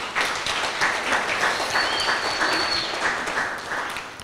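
Wedding guests applaud together in a steady burst of clapping lasting a few seconds, moderately loud, with no speech over it.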